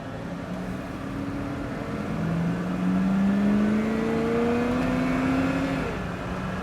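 A Chevrolet El Camino's engine revs under light throttle, its tone rising smoothly for a few seconds and then settling back, close and steady, with no talk.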